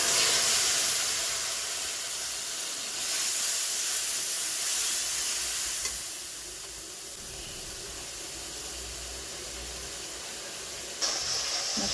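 Spice paste hitting a hot pan for a vegetarian yogurt jackfruit curry, a loud broad hiss of steam and sizzle that eases after a few seconds and flares again briefly near the end, with no voices.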